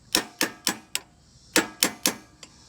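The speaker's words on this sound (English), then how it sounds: "Got a hammer." Seven or eight sharp metallic taps from a hammer striking a punch during a wheel installation, spaced in two quick groups, close and crisp with no voices.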